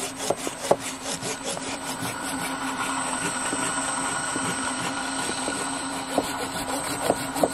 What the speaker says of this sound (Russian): Сейчас этой пилой добьем это место.